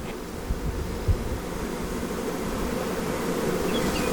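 Honey bees hum in a steady, moderate drone as frames are moved during hive splits, with a couple of faint knocks early on and the buzz holding evenly to the end.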